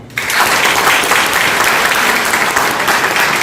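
Audience applause at a retirement ceremony honouring a jockey after 45 years of racing, a dense, steady roar of many clapping hands that begins abruptly and holds loud and even throughout.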